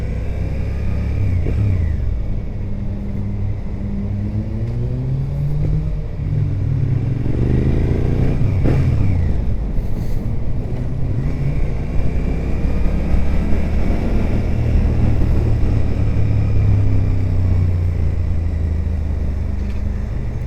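A motorcycle ridden on a slippery country road on its first outing of 2025, with a steady engine drone and rising and falling revs close by throughout, plus wind noise and no talk.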